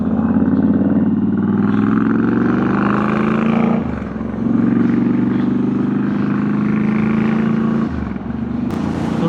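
A Royal Enfield Guerrilla 450 motorcycle on knobbly tyres, its engine droning loud and close with rising and falling revs through gear changes, accompanied by steady road and wind rush.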